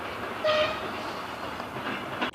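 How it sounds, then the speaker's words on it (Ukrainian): An inspection train arrives at Khyriv railway station on the restored Przemyśl–Khyriv line, its steady rumble joined by a brief horn blast and faint squeals, fairly close, with no speech. "І ось нині сюди прибуває інспекційний поїзд."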